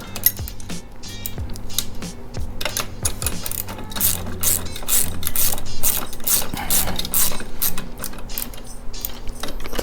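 Ratchet tightening a 13 millimeter bolt on a Can-Am Ryker three-wheeler, a loud close run of rapid clicking strokes in repeated bursts, with faint background talk.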